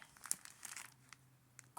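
A plastic bag crinkles and rustles as it is handled during sorting of a vintage Scouting memorabilia lot, quiet close crackling bursts coming and going, with no talk.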